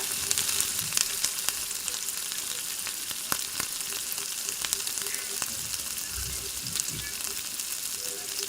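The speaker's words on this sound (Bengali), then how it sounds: "শুকনো লঙ্কাটা আমার ভাজা হয়ে গেছে" Dried red chilies fry in hot oil in a pan for a vegetarian dish, giving a steady close sizzle dotted with sharp crackles and pops, with no voices.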